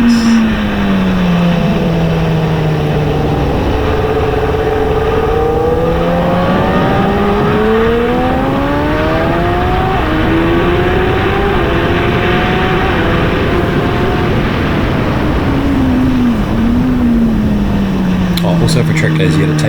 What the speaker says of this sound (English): noise of the bike doing a lap around this awesome track